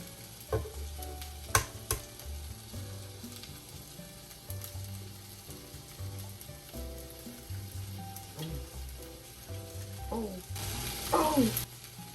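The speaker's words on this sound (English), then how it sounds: "And then you're supposed to crack the egg." A cracked egg sizzles and fries in a hot pan, a steady soft crackle with light clinks of a utensil now and then, fairly quiet and without talk.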